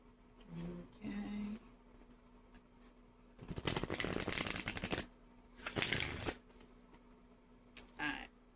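Long oracle cards are shuffled in two quick, soft riffling bursts, quiet and close, with brief murmured speech before and after.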